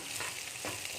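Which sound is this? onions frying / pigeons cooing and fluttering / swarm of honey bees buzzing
onions frying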